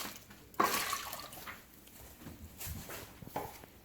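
Water splashes and sloshes in short bursts, close by, as a mixer jar is rinsed in a kitchen, with a few clinks between the pours.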